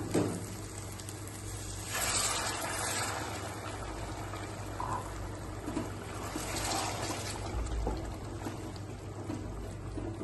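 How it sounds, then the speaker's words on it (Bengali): Hot water poured into a pot of homestyle desi chicken curry with tomatoes, turmeric and salt, a steady trickling, sizzling wash that runs continuously at moderate level without speech. "আমি একটু গরম জল দিয়ে দিব।"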